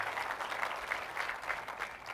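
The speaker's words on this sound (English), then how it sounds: "So, clapping? Did I hear clapping?" An audience claps faintly in a hall, a short scattered patter of applause from a modest crowd, distant and thin.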